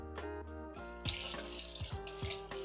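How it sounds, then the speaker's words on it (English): A tablespoon is rinsed under a running kitchen tap after measuring vanilla extract and rum, with a soft, close water flow and a few light metallic clinks and splashes over a quiet hum. "I have to wash my tablespoon now."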